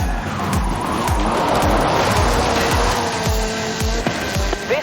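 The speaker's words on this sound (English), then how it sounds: "This is Mr. Kenneth Block's Hoonigan Gymkhana 10 Ford Focus RS RX. 2-litre, turbocharged, front-mounted engine and all-wheel drive." Ken Block's Hoonigan Gymkhana 10 Ford Focus RS RX, with a 2-litre turbocharged front-mounted engine and all-wheel drive, roars loudly in Forza Horizon 5 as it drifts, with repeated throttle surges and tire squeal.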